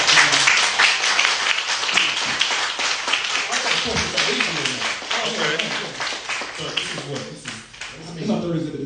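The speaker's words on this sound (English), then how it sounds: "Can we give our artists a round of applause," Audience applause for the artists at an exhibition artist talk, a dense steady clatter of many hands lasting several seconds, with voices speaking over it toward the end.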